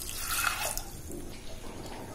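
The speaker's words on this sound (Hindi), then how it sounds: "और पानी डाल देंगे करीब" Water is poured into a pressure cooker holding lentils, cinnamon, cardamom and a bay leaf, a short close splash and trickle that fades quickly into quieter dripping.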